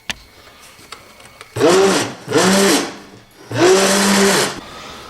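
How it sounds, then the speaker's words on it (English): An immersion blender whirs loudly in three bursts of about a second each while blending thick black bean soup, with short pauses between them. "it's time for an immersion blender"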